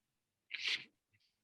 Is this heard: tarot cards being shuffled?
no